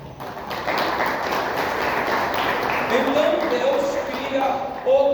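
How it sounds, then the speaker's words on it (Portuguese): Men in a church congregation applaud the women, a steady wash of clapping from many hands that holds throughout, with some tonal sounds rising near the end. "Os homens podem dar uma forte salva de palmas às mulheres?"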